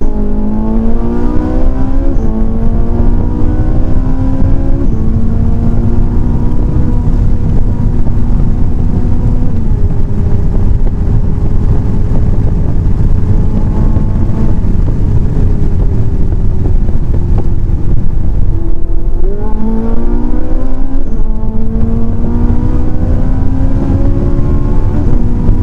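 A Ferrari 458 Italia V8 revs loud and close, its pitch climbing through the gears, holding a steady drone, then dipping at a shift before rising again, with no talking.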